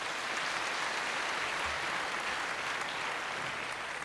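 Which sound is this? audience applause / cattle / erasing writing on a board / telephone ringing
audience applause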